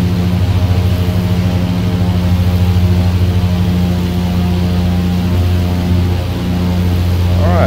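Steady, loud drone of the twin piston propeller engines of a Britten Norman BN-2 Islander in Microsoft Flight Simulator 2020, an even, low, humming throb that continues unbroken throughout.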